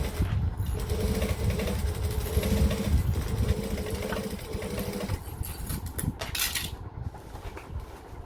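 A sewing machine stitches a bag in steady mechanical runs, its motor hum and rapid needle clatter continuing close and fairly loud throughout, with small clinks and pauses where the fabric is readjusted.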